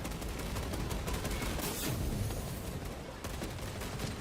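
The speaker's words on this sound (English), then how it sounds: "Those bolt guns sound horrific." Dense, continuous bolt gun fire from the video game Space Marine 2, a relentless wash of overlapping shots and blasts that stays loud and even throughout, with no talking.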